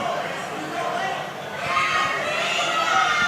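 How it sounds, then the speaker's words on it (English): Loud wrestling crowd at a live tag-team match, a dense steady roar of cheering and chatter that swells slightly in the second half. "the crowd is so loud I can't even hear myself"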